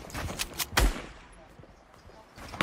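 Several loud close gunshots crack in quick succession in an arena duos shooter match, followed by quieter distant shots and a final burst at the end.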